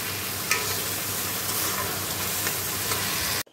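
Spice masala frying in a pan just before eggs go in: a dense, steady sizzle with stirring throughout, close and fairly loud, cutting off abruptly at the end, with no talking.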